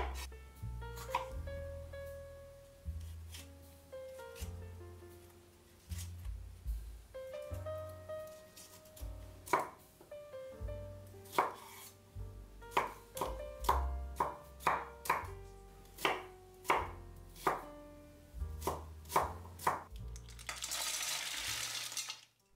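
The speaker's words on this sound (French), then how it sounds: "Je coupe 2 poivrons en morceaux." A knife chopping bell peppers strikes a cutting board again and again, slow at first, then in quicker bursts, over soft background music.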